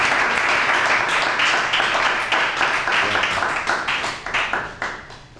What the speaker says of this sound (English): let's give her a great round of applause.